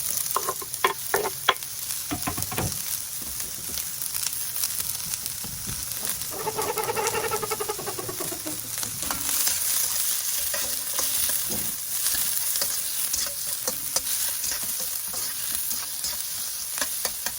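Garlic, onion and cabbage sauté in a pan: a steady close-up sizzle with repeated scraping stirs of a utensil, and no one talking.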